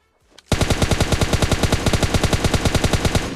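Rapid automatic gunfire from PUBG Mobile bursts in after a brief quiet lead-in, a loud, close, evenly spaced stream of shots continuing without pause to the end.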